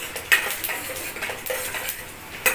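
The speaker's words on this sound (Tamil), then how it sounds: "கடலைப்பருப்பு ஒரு ஸ்பூனு போட்டு நல்லா வறுத்துக்கிறணும்" Urad dal and chana dal are being roasted in a pan, with a spoon scraping and clinking against the metal in quick irregular taps and a faint dry rustle of lentils between strokes.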